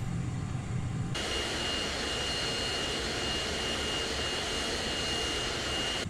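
An A-6 Intruder jet idles and taxis in Microsoft Flight Simulator, a steady loud engine whine with a high tonal hum that swells in abruptly after a quieter first second and then holds constant.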